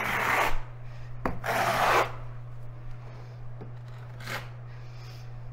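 A notched trowel scrapes ridges into adhesive on a wall before concrete tiles go on for wainscoting, giving a few short, near rasping strokes separated by quiet pauses over a steady low hum.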